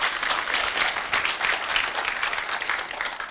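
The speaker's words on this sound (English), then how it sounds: "I thought I was going to hear a round of applause" A roomful of guests at a business school dinner applauding, steady dense clapping that holds for a few seconds without a break, fairly close and even.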